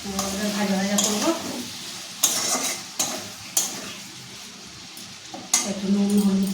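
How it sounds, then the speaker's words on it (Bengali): Paneer sizzles in a pan while a utensil scrapes and knocks against the metal in several sharp, irregular strikes, a continuous frying hiss underneath and someone talking at the start and end. "পনিরটা ভাজা ভাজা হবে।"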